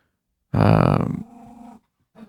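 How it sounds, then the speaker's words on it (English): A pet dog growls close to the microphone in a quiet room: one loud, rumbling snarl that fades into a softer, lower growl, then a short stir after a pause. "If anyone hears our dog growling, that's because he hates us."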